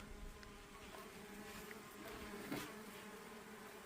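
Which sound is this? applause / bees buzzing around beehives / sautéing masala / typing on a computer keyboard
bees buzzing around beehives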